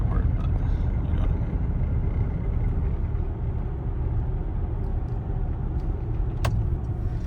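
A steady low road rumble fills the cabin of a moving 2015 Porsche Macan Turbo, with faint rattling and one brief sharp click near the end.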